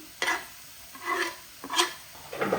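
A spoon stirs ingredients around a lightly oiled pan in a few separate scraping strokes, with soft sizzling of frying food beneath, close and fairly quiet.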